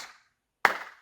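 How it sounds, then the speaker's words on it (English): Two sharp hand claps in a kindergarten rhythm exercise, close and crisp, the first trailing off before a brief silence and then a louder second clap. "your hands will clap 2 times."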